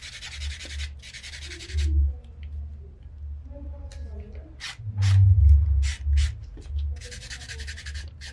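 A polishing block buffs a fingernail during manicure prep, giving close, rhythmic bursts of dry rubbing in short strokes with pauses between, while someone speaks quietly underneath.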